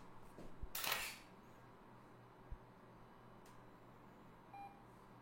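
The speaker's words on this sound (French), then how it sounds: "je vais faire une première photo" A Fuji GX680 medium format camera takes a photo in a flower studio: one loud mechanical shutter clack, then a small click and a faint electronic beep in a quiet room.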